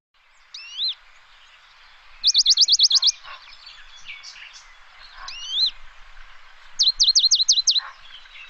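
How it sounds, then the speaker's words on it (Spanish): A Western Bonelli's warbler sings twice, each time a fast even trill of about seven rapid notes, set among scattered short chirps and call notes from other birds in a quiet forest. "Mosquitero papialbo. También hace como trinos, digamos"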